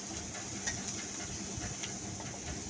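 Onion sizzles in a pan of hot oil while a Buwal fish dish is cooked, giving a steady, close hiss throughout with a few faint stirring clicks and no talking.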